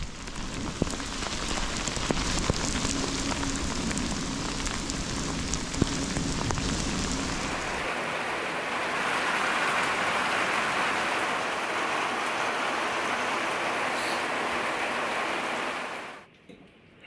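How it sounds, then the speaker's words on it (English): Heavy rain pours down steadily, a dense hiss that shifts in tone midway, loud and close throughout before cutting off at the end. "It started raining like crazy."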